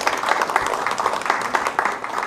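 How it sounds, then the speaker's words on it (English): A lecture audience gives a lively round of applause to welcome a professor, steady dense clapping at close range for a couple of seconds. "let's welcome the Professor Ascoli with a generous applause"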